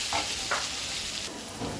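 Green chilies sizzle steadily in hot oil as they are stirred in a pan, a continuous frying hiss with a few soft spoon scrapes, close and alone with no talk.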